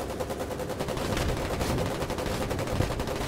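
Continuous gunfire during a naval barge battle in the video game Foxhole, a dense rattle of rapid shots, steady and fairly loud throughout.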